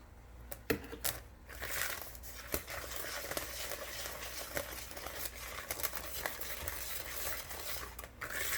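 Batter being whisked and stirred with milk in a bowl for apple sonker, a scraping, tapping patter of utensil against the bowl with a few sharper clinks, steady and close.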